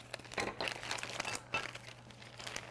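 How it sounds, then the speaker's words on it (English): A plastic bag holding swerve drive assembly parts for a robotics build crinkles and rustles softly as it is opened, with steady quiet crackling throughout. "it'll be a lot easier to show you if I take it out of the plastic bag."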